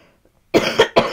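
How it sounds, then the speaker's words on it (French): Three harsh coughs in quick succession after a brief silence, close and loud, forming a short coughing fit. "excusez-moi pour ces quintes de toux"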